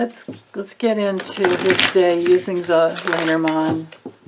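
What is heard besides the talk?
shuffling Lenormand oracle cards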